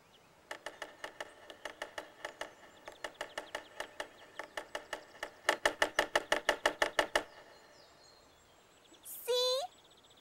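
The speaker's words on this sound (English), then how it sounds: "It sounded like someone knocking on the door." A woodpecker in a cartoon drums on wood in quick repeated bursts of sharp knocks, the last and loudest run ringing out clearly, followed by a short rising warble-like call.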